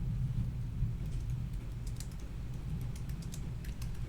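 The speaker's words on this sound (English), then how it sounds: "And then you can type a fresh email here if you want." Fingers type on a computer keyboard, giving a run of soft, quick key clicks at an uneven pace over a low background hum, with no talking.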